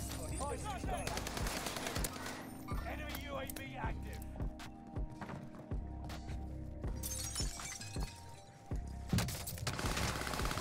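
MG82 light machine gun fire in Warzone on Rebirth Island, with bursts of shots and glassy shattering in a busy, cluttered game mix that includes some voice chat.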